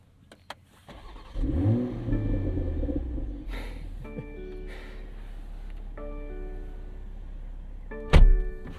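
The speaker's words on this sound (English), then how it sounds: "start this thing up, and we'll let you hear that B58 come to life" A BMW B58 engine in a 2023 BMW Z4 M40i cranks and fires up with a quick rising rev, then settles into a steady idle, followed by a sharp thump near the end.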